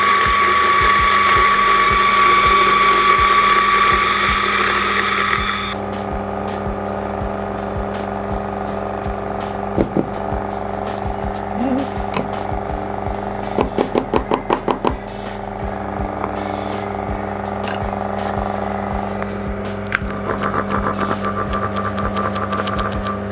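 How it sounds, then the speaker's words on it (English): A DF54 coffee grinder grinds beans: a loud steady whine with mechanical rattling that drops to a lower hum about a third of the way through, with sharp clicks and bursts scattered across the later part. "That was the first grind, okay? That's the first grind."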